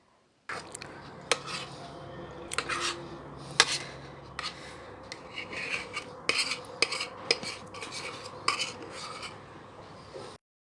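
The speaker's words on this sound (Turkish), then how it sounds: "Şimdi lokumumuzu içine dökelim." Thick Turkish delight with lemon and hazelnut is poured and scraped into a glass tray, with repeated clinking and scraping of a spoon against glass and soft sticky stirring sounds in an irregular rhythm, close and moderately loud.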